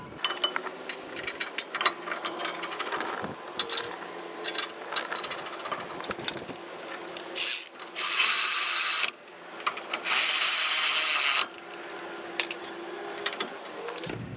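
Brake caliper mount bolts tightened on a 2006 Nissan Frontier during a front brake job, loud bursts of an air or impact wrench that rattle and buzz between shorter clanks and clicks.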